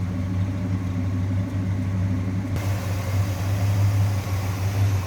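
A 1966 Ford Fairlane 500 GT convertible's engine idles smoothly and steadily, a low continuous rumble with an even hum throughout, close by and fairly loud.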